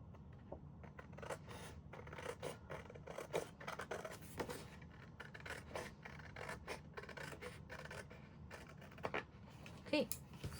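Scissors cutting through craft paper for a handmade money envelope, a steady run of close, soft snips and rasping slices across the whole stretch, with faint background noise.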